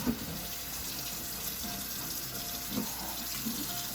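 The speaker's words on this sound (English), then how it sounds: "The first thing we're going to do is wash the mason jar out really well." Tap water runs steadily into a sink while a mason jar is rinsed and scrubbed with a dishcloth, a continuous close splashing with small bumps as the jar shifts under the stream.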